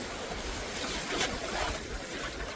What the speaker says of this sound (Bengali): ঢেউটাও কিন্তু আস্তে আস্তে বাড়ছে আস্তে আস্তে পিছিয়ে যায়